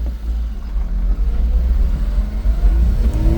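A Daihatsu Hijet dump truck in high range two-wheel drive pulls away. Its engine gives a loud, close, steady rumble, and the revs climb as it moves off.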